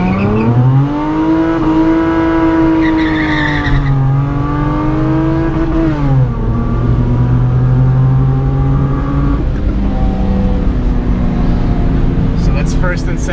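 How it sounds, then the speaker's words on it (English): A loud Honda car with an aftermarket exhaust makes a brake-stand launch and then pulls hard through first and second gear, the engine note rising, dropping at the shift and climbing again, with tire noise. "We'll go from a first gear dig with a brake stand launch."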